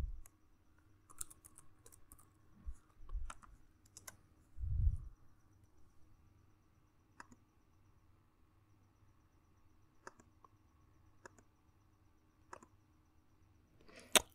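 Sparse, faint keystroke clicks on a computer keyboard while code is entered, scattered single taps separated by quiet gaps, with a few low thumps.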